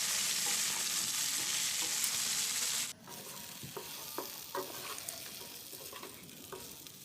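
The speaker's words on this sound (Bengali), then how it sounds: "বেগুনটা দেওয়ার পর এটাকে একটু নাড়াচাড়া করে নিচ্ছি।" Cut eggplant being stirred in a hot pan with softened radish for a chutney, a steady close sizzle with scraping and clinking stirs repeating irregularly throughout, no voices.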